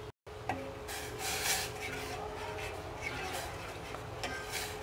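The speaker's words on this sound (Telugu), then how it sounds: "పాలు అడగంట కాకుండా తిప్పుకుంటూ ఉండాలి" A spoon stirs and scrapes milk in a pan on the stove for a homemade almond fruit salad. It makes continuous rubbing, scraping strokes with occasional metal taps, and a voice talks faintly underneath.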